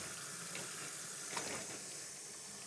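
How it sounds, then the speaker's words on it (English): Water from a basin poured into a sink during catheter care cleanup, a faint, steady splashing hiss that runs unbroken for a few seconds. "I'll bring the basin to the sink and we'll dispose of the water in the sink."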